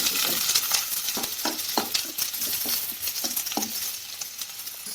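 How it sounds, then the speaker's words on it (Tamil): Large onions sautéing in a pan with cardamom for parotta salna, a constant bright sizzle broken by rhythmic scraping and clinking strokes of a spoon stirring against the pan. "பெரிய வெங்காயம் போட்டு கொஞ்சம் வதக்கிக்கலாம்."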